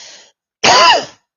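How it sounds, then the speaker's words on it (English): A single harsh, loud cough close to the mic, bursting out after a brief faint sound and a pause, then fading over about half a second. "Sorry, crappy cough today."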